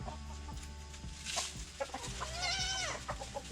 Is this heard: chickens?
yes